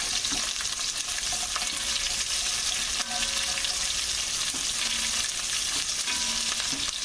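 Onions sizzle in hot bacon fat in a frying pan for bread soup, a steady loud crackling hiss with no pauses, close to the pan.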